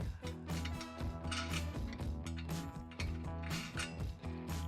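A ratchet tool tightens the hardware bolts holding the rim to the backboard of a Lifetime 52-inch portable basketball system, with rapid, repeated mechanical clicking in quick bursts close by.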